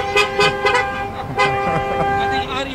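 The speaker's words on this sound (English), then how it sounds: "So you have to honk a horn." A car horn honks repeatedly at a drive-thru Eid al-Adha celebration, sounding in loud, sustained toots with short breaks between blasts, close by.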